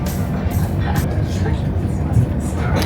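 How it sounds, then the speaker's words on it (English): ICE high-speed train travelling from Frankfurt to Berlin, a steady low rumble and rushing noise heard from inside the carriage, continuous and even throughout. "This is the ice train, rocketing into Berlin."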